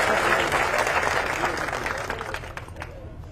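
A crowd at a speech by Manoj Jarange Patil breaks into dense, loud applause that stays steady and then gradually thins out toward the end.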